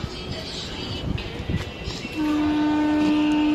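Basava Express pulls out of a station, with a rumble of wagons and clatter, then a long steady horn blast rising above the train noise.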